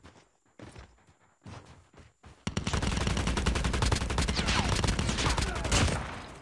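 Rapid automatic gunfire from a weapon in Call of Duty Mobile battle royale mode, loud and close. It follows a few scattered single shots and footsteps, then runs as a long, sustained burst.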